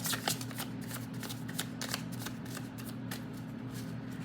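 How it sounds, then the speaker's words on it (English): Crisp riffling and flicking of playing cards being shuffled, a steady run of quick papery bursts over a low background hum, no voices. "I have to make sure I give them a good shuffle before I pull a card."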